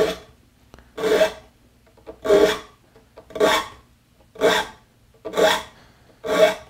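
A saw file rasps across the teeth of a fine-pitched saw during sharpening, sounding as seven steady, evenly spaced strokes, one pass per tooth, each a close, dry scrape separated by short quiet gaps.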